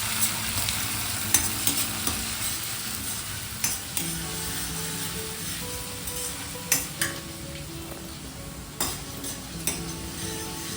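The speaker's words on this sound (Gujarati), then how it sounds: "તેલ ગરમ થઈ જાય એટલે એમાં આદુ મરચાં લસણની પેસ્ટ એડ કરવાની અને વ્યવસ્થિત સાંકળી લેવાની છે." Ginger, chilli and garlic paste sizzles in hot oil in a kadai, a constant frying hiss broken by occasional scrapes and taps of a spoon stirring it, with no voices.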